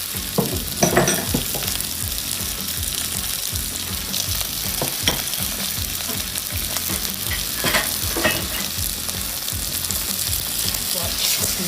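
Diced onions and bacon sautéing in a hot pan give a steady, close sizzle and crackle, with occasional stirring scrapes and no talking.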